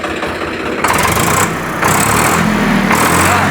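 A tractor engine idles steadily just after starting, a loud close mechanical chug that holds even, with a slight shift partway through and no talking.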